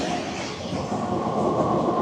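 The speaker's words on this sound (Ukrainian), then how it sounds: "Трамвайчик тройний поїхав." A tram pulls away along a street in Odesa, its steady rumble and rail noise running close and loud for the whole moment with no voices.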